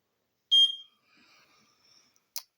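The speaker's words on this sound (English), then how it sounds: "I've had about enough of that smoke alarm" A single sharp electronic smoke alarm chirp, followed by faint background noise and a second brief high chirp near the end.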